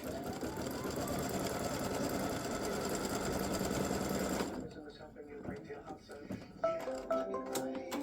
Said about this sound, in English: So it's going to do the placement stitch here and here.